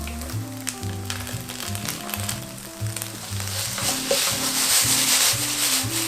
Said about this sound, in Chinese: 就把它大火爆炒香